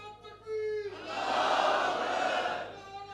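A crowd at a Sufi religious gathering in Rajasthan bursts into a loud, sustained collective shout after a lone voice leads the takbir slogan, the roar swelling and holding for about two seconds before fading.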